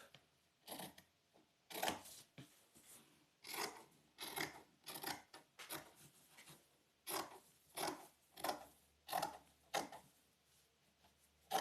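Fabric for a washable face mask is cut with scissors, making a series of soft, crisp snipping and rasping strokes in irregular bursts, faint and close in a quiet room.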